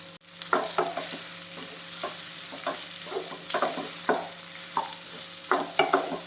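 Raw papaya mixture is stirred in a frying pan, with a soft constant sizzle beneath regular scraping strokes of a spoon against the pan, fairly quiet and close.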